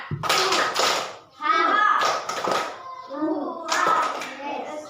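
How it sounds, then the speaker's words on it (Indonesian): Children in a classroom clap a quick rhythmic pattern in bursts, mixed with young voices chanting along, close and lively in the room. "Tepuk semangat."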